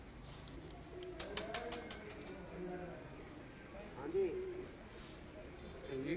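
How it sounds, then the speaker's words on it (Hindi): Pigeons on a rooftop give soft, faint coos and calls against a murky outdoor background, with low voices murmuring nearby. "ऊपर से भी कबूतर नीचे आ रहे हैं"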